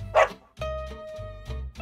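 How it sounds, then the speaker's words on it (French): A dog barks close by, several sharp barks spaced out across a couple of seconds, heard alone with no talking. "Chien."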